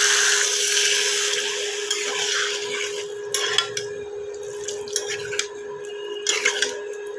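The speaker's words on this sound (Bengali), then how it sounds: "এবার জল দিয়ে দেবো।" Water is poured into a cooking pan of spices that have been fried until the oil separates, for a Bengali omelette dalna curry. A steady rushing hiss gives way to scattered splashes, drips and light clinks.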